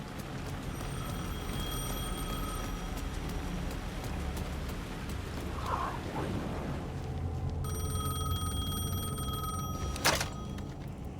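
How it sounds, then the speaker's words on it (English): A telephone rings in the game Alan Wake, two long bursts of bright electronic trilling separated by a pause, over a backdrop of soft rain-like hiss, with a sharp click near the end. "The phone was ringing again."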